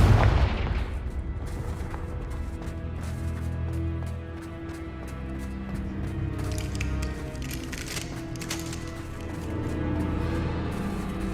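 Confringo blasting spell in Hogwarts Legacy: a heavy boom opens, then rumbling blasts and crackling impacts roll on under a steady low drone, loud and close throughout.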